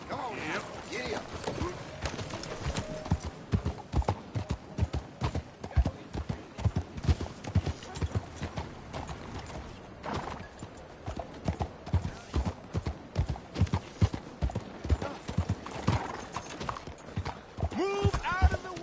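A horse gallops in the Red Dead Redemption 2 video game, its hoofbeats a steady, rapid clip-clop running throughout, with a voice or two faintly present beneath.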